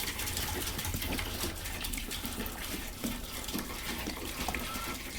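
Apple cider vinegar from a roughly 2.5-gallon jug poured into a 1993 Honda Accord LX to treat rust, a continuous soft splashing gush of liquid that runs steadily throughout, fairly faint.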